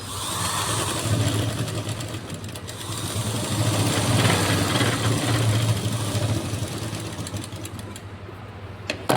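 An electric sewing machine stitches a shirt collar seam, humming and whirring continuously at close range for about nine seconds, the motor swelling slightly midway before easing off at the end, with no talking.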